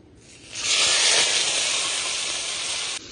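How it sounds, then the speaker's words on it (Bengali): A whole rohu fish, rubbed with salt and turmeric, hits hot oil with a sudden loud, steady hiss of sizzling that holds strongly for about two seconds before easing slightly. "তেলটা গরম হয়ে গেছে, এবার মাছটা দিয়ে দিই।"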